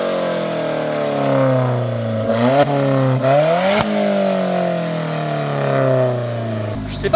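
An Alfa Romeo 4C with its factory exhaust, heard from outside, idles with a raspy, throaty tone, then takes two sharp rev blips that rise and fall before settling back to a steady idle.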